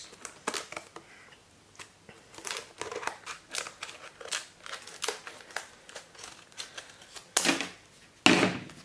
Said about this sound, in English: Now we're gonna cut it open